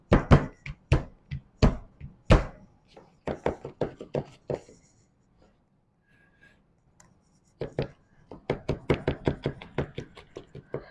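Knife chopping garlic on a cutting board, crisp irregular taps in two quick flurries separated by a few seconds of quiet, close and clear with no talking.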